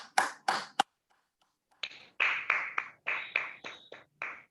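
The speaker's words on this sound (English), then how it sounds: "please give the TMOD Lokesh a huge round of applause" Sparse, separate claps from a small group in an online Toastmasters club meeting, arriving in short irregular bursts with brief silent gaps, close and fairly quiet.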